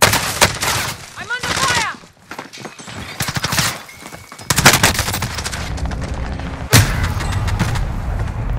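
Bursts of rapid gunfire and explosive impacts from a Call of Duty Modern Warfare multiplayer match, loud and repeated throughout, mixed with game effects and a player talking over them.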